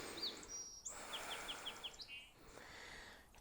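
Spring birdsong heard outdoors: thin, high chirps and a quick run of repeated tweets, quiet and somewhat distant over a soft background hiss, with no talking.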